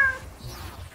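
A cat meows in the video game Infamous First Light, a single short, fairly loud meow at the start that fades into low game ambience.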